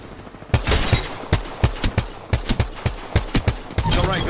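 Gunfire in the video game Apex Legends: loud, close shots in rapid irregular volleys and bursts, some tightly clustered, sounding for several seconds.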